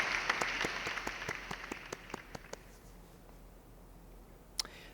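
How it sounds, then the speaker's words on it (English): Sparse, quiet applause at a university CAD/CAM design competition awards for a third-place team: a dozen or so distinct claps in a loose, regular rhythm that thin out and die away, with a single late clap near the end. "Give them a round of applause."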